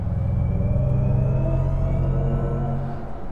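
Artificial driving sound from a Mercedes-Benz EQC 400 4x4² electric SUV in its third sound setting, a loud, deep synthetic engine-like rumble with layered droning tones that holds steady, then eases off at the end.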